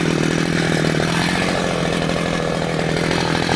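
Older Husqvarna chainsaw cutting into a tree on a farm, its engine holding a loud, steady buzzing drone with no pauses throughout.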